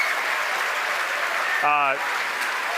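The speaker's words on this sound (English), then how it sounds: "The crowd's going nuts here at SpaceX headquarters in Hawthorne" A crowd at SpaceX headquarters in Hawthorne cheers and applauds as a Falcon 9 first stage is recovered on a drone ship, a dense, steady roar of clapping with a brief voice rising through it.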